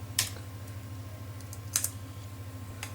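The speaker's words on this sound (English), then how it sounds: "now I've got to type in the password yet again." A few light keystrokes on a computer keyboard while entering a password, isolated clicks in short bursts over a steady low electrical hum.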